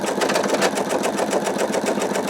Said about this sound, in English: Now it's going to start sewing the second arc